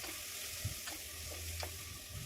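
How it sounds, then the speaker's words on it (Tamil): A spice mixture for crab soup is stirred in a pan, soft frying sizzle with a few faint scraping strokes, quiet and close, no voices. "இப்போ நல்லா மறுபடியும் ஒரு 2-3 தடவை இந்த மாதிரி மிக்ஸ் பண்ணிகிட்டே இருக்கலாம்."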